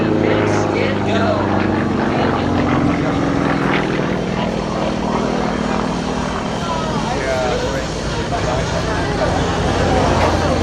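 Sukhoi SU-31 aerobatic airplane with a 400-horsepower M14 piston engine performing at an air show, its steady loud propeller drone continuous throughout and partly under a commentator's voice.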